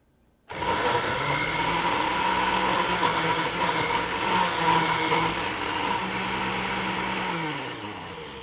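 A blender whirring at steady high speed through peaches, ginger, sesame oil and teriyaki sauce, starting abruptly and running loud and continuous, easing slightly near the end, with no talking.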